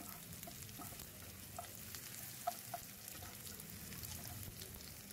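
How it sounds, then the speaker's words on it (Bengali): Cumin seeds fry in a pan beside partly cooked potatoes, giving a faint, steady sizzle with a few small pops and crackles scattered throughout. "জিরেটা একটু ভাজা করে নেব"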